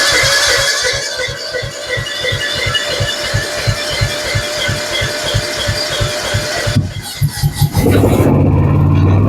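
A John Deere F525 lawn tractor engine cranks with a fast, even rhythmic chugging, then catches and settles into a louder, rougher idle near the end, heard close up.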